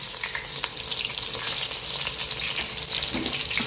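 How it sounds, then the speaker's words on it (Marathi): Cumin seeds and chopped onion sizzle steadily in hot oil in a kitchen pan, a loud, continuous crackling hiss with no talking. "आता जेव्हा जिरं टाकलं, हा कांदा,"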